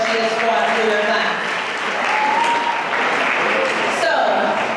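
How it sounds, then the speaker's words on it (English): A high school honors convocation audience claps for a staff member, steady loud applause from a large crowd that holds throughout, with a few faint whoops on top. "you have to clap it up for her"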